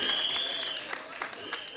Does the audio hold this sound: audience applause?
yes